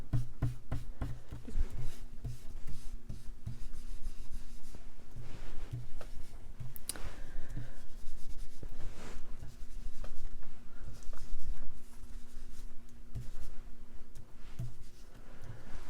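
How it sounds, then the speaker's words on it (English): A pen inks hexagon-pattern planner pages, giving soft scratchy strokes on paper that come in short, irregular bursts with brief pauses between them, close and quiet with no speech. "you'll want to ink up all your pages"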